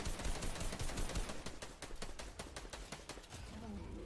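Rapid bursts of video game gunfire rattle off in quick, sharp volleys close to the listener, with faint player voices mixed underneath.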